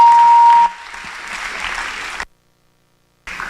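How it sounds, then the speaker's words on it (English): Applause from a graduation ceremony audience, a brief, moderate patter of clapping that cuts off abruptly into silence before resuming faintly at the end, after a short steady tone at the start. "Guys, just one more round of applause,"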